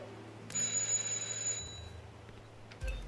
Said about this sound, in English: All right, just ring the doorbell.